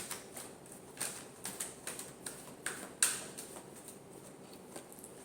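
A tarot card deck being shuffled: a quiet run of about eight soft, evenly spaced card snaps close by, fading into faint background.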